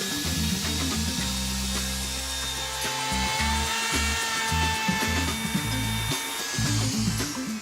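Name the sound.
router bit cutting laminate countertop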